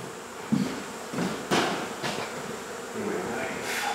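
Bees from an indoor hive removal in Mission, Texas buzz in a low, steady drone, close by, with a few brief knocks and handling bumps over the hum.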